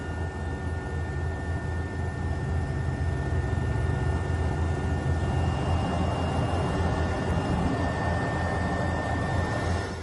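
A helicopter carrying an official party heading to Merak Port gives off a loud, continuous engine roar with a heavy low rumble and a steady whine, unbroken throughout and without talk.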